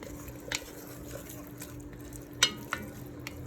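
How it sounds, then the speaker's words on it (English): Short rib braising liquid with alcohol simmers in a Dutch oven: a faint, steady low bubbling bed broken by a few sharp clinks and soft pops, with no voices. "I'm going to let that combine and let it simmer until it's reduced"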